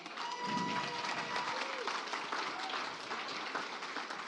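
Audience applause at a startup pitch night investment summit, dense steady clapping from a crowd that fills the room at a constant level, with a voice faintly underneath.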